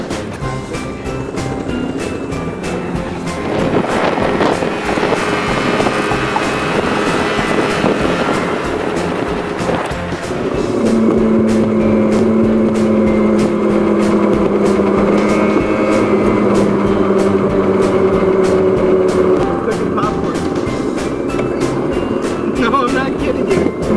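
A 49cc scooter engine runs steadily up close, a continuous droning hum with wind buffeting, while popcorn cooks on it; the engine pitch shifts partway through.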